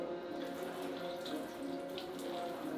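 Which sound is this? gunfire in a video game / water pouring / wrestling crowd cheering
water pouring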